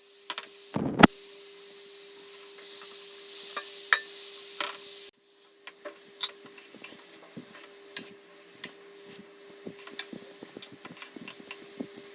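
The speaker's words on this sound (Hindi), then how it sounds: "अभी ये फ्राई होता रहेगा घी में अच्छे से" Food frying in store-bought ghee in a pan, a steady faint sizzle and hiss with light intermittent clicks of stirring throughout.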